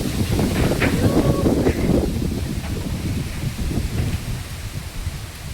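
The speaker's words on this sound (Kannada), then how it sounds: "ಭಾಳ ಗಾಳಿ ಬಿಟ್ಟೈತ್ರಿ ಫ್ರೆಂಡ್ಸ್" Strong wind blows outdoors around village trees, a loud continuous rushing roar with gusty swells, heaviest early on and easing slightly later, with rustling undertones.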